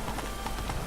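Horse hooves clip-clopping at a gallop in a video game, a quick steady rhythm of close, fairly loud hoof beats over a continuous background.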